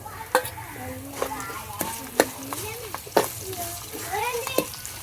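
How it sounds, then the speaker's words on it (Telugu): Pounded broad beans fry and get stirred in a pan, a soft steady sizzle with sharp scraping knocks of a spoon every half second or so, while someone talks over it. "ఈ చిక్కుడుకాయలు ఏవైతే ఉన్నాయో దంచి పెట్టుకున్నాను కదా వాటిని ఫ్రై చేసుకుంటాను"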